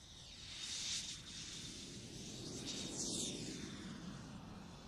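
Faint, high-pitched whine of a small model jet turbine at an airshow, with a rushing hiss, rising and falling slightly in a steady, distant-sounding run.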